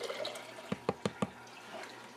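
Apple cider vinegar poured into a jar, heard as a handful of short liquid splashes and drips in quick succession, close and fairly soft over a quiet background.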